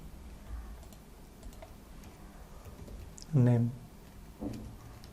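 Light, faint computer keyboard typing of short variable names, scattered soft key clicks beneath a brief spoken voice.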